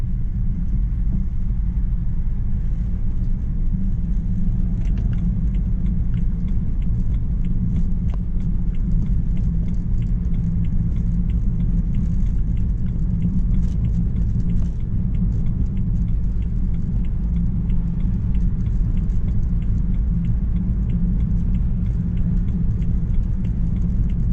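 A car driving through rush-hour traffic in Guangzhou, heard as a steady, loud low engine and road rumble that continues unbroken throughout, with no voices over it.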